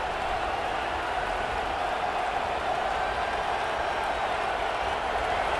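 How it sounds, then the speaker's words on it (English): Steady roar of a stadium crowd in the College Football 26 video game at the Las Vegas Bowl, Nebraska Cornhuskers versus Utah Utes, a dense, continuous wash of cheering building energy on a big third down, with no talk over it. "The crowd elevating its energy, willing this defense to get a stop on this big 3rd down."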